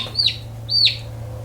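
Two high, rising peeps from young turkeys, about half a second apart, over a steady low hum on a homestead.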